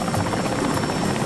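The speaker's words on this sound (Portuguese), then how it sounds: "o helicóptero decola de Santa Ana" A helicopter lifts off from Santa Ana airport, its rotor and engine roar steady, loud and close throughout the short moment, with no voices.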